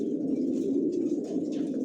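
Racer pigeons coo in a loft: a steady, low, continuous murmur of overlapping coos without pause, moderately loud and close.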